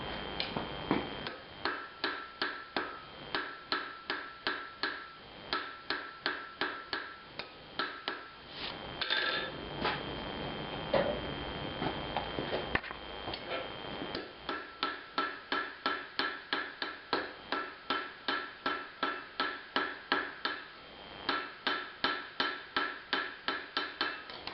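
A blacksmith hammers hot square steel stock on an anvil, drawing it out and forging it round: a long run of steady, ringing close-up strikes with a brief, quieter pause partway through.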